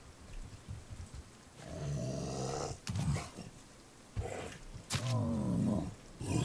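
A bear roars and growls in the Raft survival video game, delivering several loud, rough bursts with short gaps between them and no talk over the sound.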